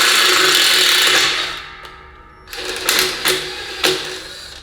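Ratcheting metallic clicks and grinding as a tap cuts threads into a freshly drilled hole in metal while installing an Ingersoll Rand air compressor, with bursts of scraping and short pauses between turns, close up.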